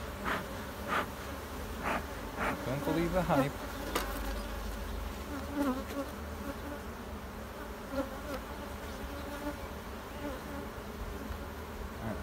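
Honeybees buzz steadily inside an opened hive during a honey harvest, a loud, close, continuous drone. Someone speaks briefly over it, and there are occasional knocks and handling noises.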